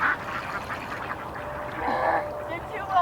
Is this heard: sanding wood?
no